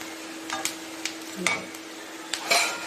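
Onions frying in a pan with a little turmeric, a soft sizzle broken by sharp scrapes and clinks of a spoon stirring against the metal, spaced out over a few seconds.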